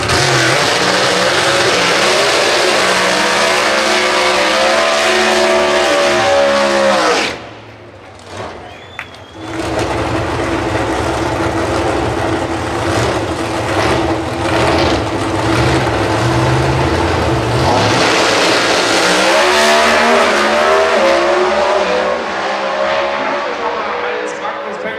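Pro Stock drag race cars at a drag racing event, a loud sustained engine roar with a brief drop in the middle before the engines surge again. A commentator talks over it.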